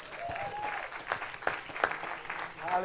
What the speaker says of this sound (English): Can we give our men a hand clap of appreciation?